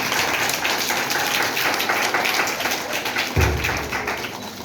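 A church congregation claps in welcome, a steady, dense patter of many hands that fills the room without a break, with one louder thump near the end.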